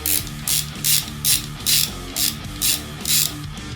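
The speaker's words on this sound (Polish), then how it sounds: "Dźwięk to oczywiście antyrewers" Anti-reverse ratchet on a fishing reel clicking in quick bursts, about eight evenly spaced rattling pulses, close and loud with no talk.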